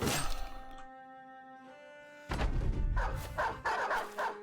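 A dog in the video game Battle Brothers barks amid battle sounds, with sharp game impacts and clatter crowding around it, loud and close in the mix.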